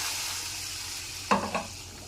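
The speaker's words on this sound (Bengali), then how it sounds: "এটা জিরে ফোড়ন দিয়ে দিচ্ছি।" Cumin seeds hit hot oil for tempering in a home kitchen, giving a steady soft sizzle with two sharp crackling bursts partway through, close by and without talk.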